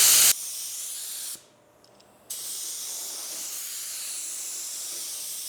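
A paint spray gun spraying clear coat onto a car panel at about 25 psi: steady close hiss of atomized spray with a sharp burst at the start and a brief pause where the trigger releases before spraying resumes.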